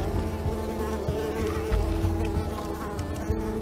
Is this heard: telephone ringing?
no